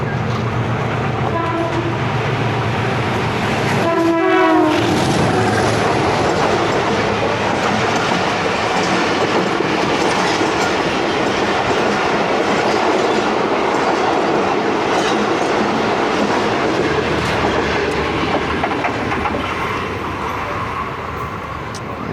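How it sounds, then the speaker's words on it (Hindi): The 14 Down Awam Express passenger train pulls into a railway platform in Pakistan, sounding a loud horn blast early on, then a long, heavy, steady rumble of rolling wagons passing close by. "दोस्तों 3:50 हो गए और 14 डाउन अवाम एक्सप्रेस आ रही"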